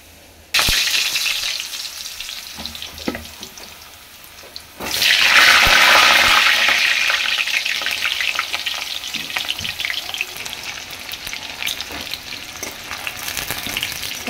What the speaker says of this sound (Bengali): এবার আলুটা ভেজে নেব।